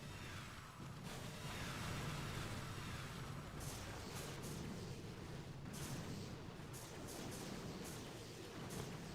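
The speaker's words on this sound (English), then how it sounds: "Doom cannons. Doom cannons, and my shockers are not hitting the target." Doom cannons firing in the mobile strategy game Boom Beach during a Scorched Crab stage battle: dense, continuous booming and blasting game audio that holds steady throughout, with no talking.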